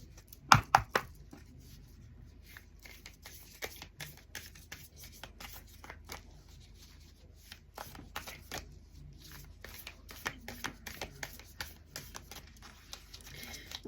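Deck of cards being shuffled by hand, soft irregular bursts of riffling and clicking with quiet gaps between, close and faint.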